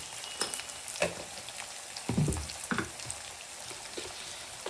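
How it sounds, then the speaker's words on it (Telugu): Raw carrot and other vegetables fry in a pan with turmeric while making tomato poha, a soft steady sizzle with a few brief crackles and stirring clatters, close and moderately quiet, with no talking. "క్యారెట్ కూడా పచ్చిదే కాబట్టి వేగాలి"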